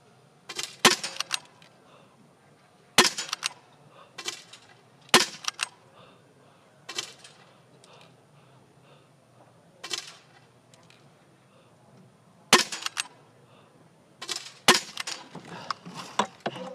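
Rifle shots ring out at a para biathlon shooting range during a 10 km final in Beijing, about eight sharp, loud cracks spaced a second or more apart over a faint background hum.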